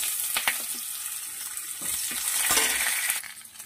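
Cashews, melon seeds and ginger fry in a pan for a mixed vegetable dish, giving a steady bright sizzle with a few soft stirring clinks, fairly close and heard alone without talk.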